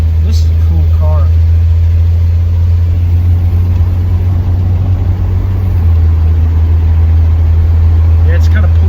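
A 1973 Ford Maverick with drivability issues and pulling to the left, its engine droning steadily and loudly up close while driving, with a constant low rumble under people talking.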